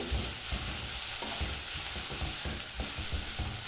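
Banana stem with coriander leaves sautéing in a pan: a steady close sizzle with repeated stirring scrapes in a regular rhythm, no voices.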